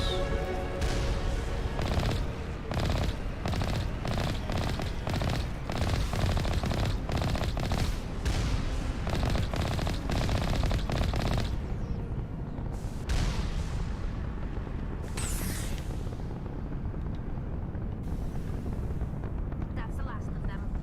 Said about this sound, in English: Let's blow up some turrets.